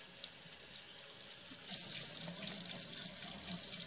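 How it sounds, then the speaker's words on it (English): Cold water runs from a bathroom tap into a hydrometer, a steady hissing splash that grows slightly louder and fuller partway through as the vessel fills. "I'm in my bathroom, and just turn on the cold water, and then just put that underneath it."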